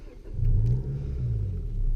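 A supercharged Toyota Yaris GRMN engine fires up, a brief crank followed by a deep idle rumble that rises and settles, close and steady.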